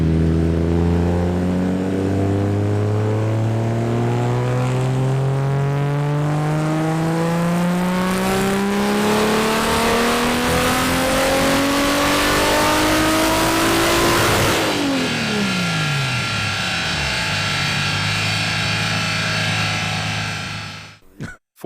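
Turbocharged Toyota Chaser engine on a dyno, run at wastegate-spring boost of about 1 bar, revving steadily up through the range for around fifteen seconds before the throttle closes and the engine winds down, loud and close throughout.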